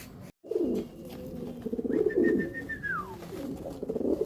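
Pigeons kept for sale coo in low, repeated rolling bursts close by, with a brief higher chirp-like note partway through and no talking over them.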